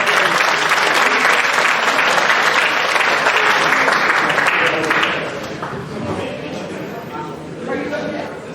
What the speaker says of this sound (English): Give us one more round of applause, please.